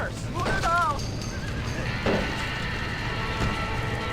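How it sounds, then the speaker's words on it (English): In the Red Dead Redemption video game, a horse gives one loud, close, wavering whinny early on, followed by faint clip-clop hoofbeats and a soft patter like rain in the background. "Somebody get them horses out!"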